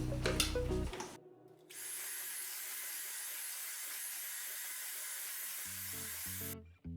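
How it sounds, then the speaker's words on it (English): Cream cheese frosting ingredients with vanilla are mixed together, heard as a steady whirring hiss that starts abruptly, holds for about five seconds, then cuts off. "And mix that together."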